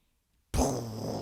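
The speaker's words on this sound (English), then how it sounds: "This is the bomb. This is the sound of the Woj bomb." A Woj bomb sound effect bursts in after half a second of silence, a sudden loud booming blast that sustains with a rough, buzzy roar to the end.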